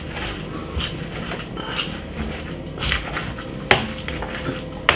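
Garlic is mashed with olive oil and mixed herbs, giving a string of dull knocks and scrapes with a couple of sharper clacks, close and moderately loud.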